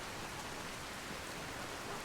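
Steady, even rain falls at night over the village of Riverwood in the video game Skyrim, a soft, continuous hiss with no thunder or voices.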